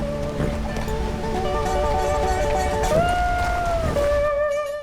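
Steady rushing water of a waterfall by a bridge support structure in Red Dead Redemption 2, a loud continuous broadband roar with tonal music layered over it throughout.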